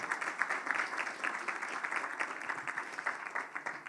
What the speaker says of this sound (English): I wish they could have a round of applause if you're willing